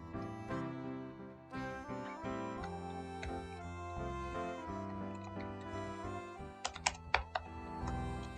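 Someone types steadily on a computer keyboard close by, with rapid clicks and a few louder keystrokes in bursts, and no talk over it.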